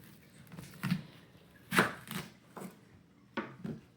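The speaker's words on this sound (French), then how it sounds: "vous coupez l'oignon en 2." Knife cutting an onion in half on a cutting board in a home kitchen, a few sharp separate chops and taps spaced irregularly, faint and close by.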